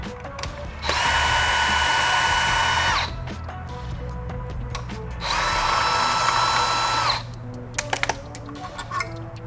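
Two sustained bursts from a power drill, each about two seconds long, taking out the oil pump bolts on a Jeep Cherokee engine. They are close and loud, with clinks of tools and handling in between. Nobody speaks.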